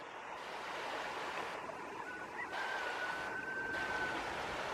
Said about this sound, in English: There's a lovely stream down here, and it joins up with the river over there.